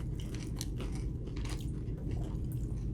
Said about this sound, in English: I like the sound of a taco.